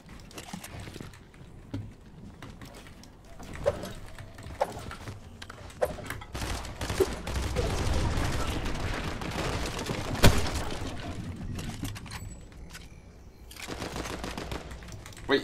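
Rapid automatic rifle fire from a competitive shooter video game crackles in repeated bursts over a busy, layered game mix, with sharper single shots standing out; no one speaks.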